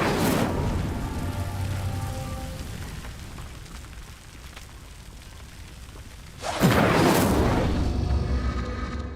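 Roaring whoosh of Incendio fire flames bursting onto pyres in Hogwarts Legacy, a loud broad blast at the start fading to a rumble, then a second strong flare swelling near the end.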